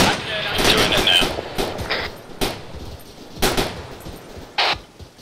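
Sporadic gunfire from an Arma 3 large-scale co-op battle at an airfield with hangars and barracks, sharp broadband reports spread across the clip amid radio-style voice chatter.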